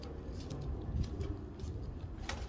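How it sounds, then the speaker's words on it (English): Pigeons gathered at a home in Las Vegas, Nevada, where they are fed, coo softly in low, throaty bursts over steady outdoor background noise, with no talking. "I feed the pigeons so they kind of hang out"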